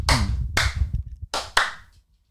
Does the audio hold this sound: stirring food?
no